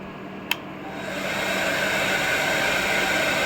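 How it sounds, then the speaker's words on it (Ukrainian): A hair dryer powered by a hybrid inverter whirs on after a brief click, settling into a steady, loud airy roar that continues evenly to the end. "Так, увімкнув я ще фен."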